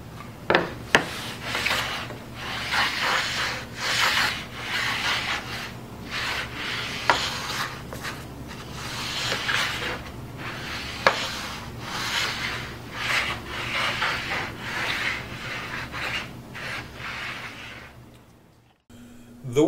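A wooden plank rubbed back and forth across the end and side joint seams of a clear rift and quartered white oak floor, giving a steady run of close, dry scraping strokes that ends briefly near the finish.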